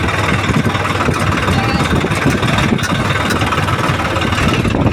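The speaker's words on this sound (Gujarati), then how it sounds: "નાનું ટ્રેક્ટર ઉપડી ગયું" A mini tractor's engine idles nearby, a loud, steady low rumble that holds an even level throughout without revving.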